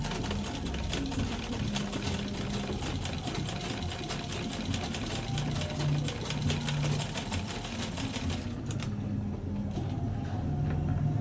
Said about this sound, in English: So I'm going to sew it down.